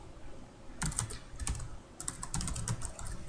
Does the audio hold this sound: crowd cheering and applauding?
no